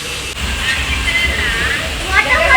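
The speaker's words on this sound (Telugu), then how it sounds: "Look at that guys, wow water falls." Waterfall at a resort in Coorg, a steady rushing roar of falling water filling the background under excited talk.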